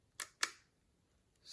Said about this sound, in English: Let's hear the sound of the shutter.